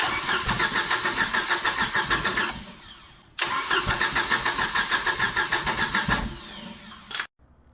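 A rebuilt Mercruiser 3.0 boat engine cranks on its first start attempt: two long bursts of rhythmic starter churning with a pause between, close and loud, ending in a brief final crank and then silence.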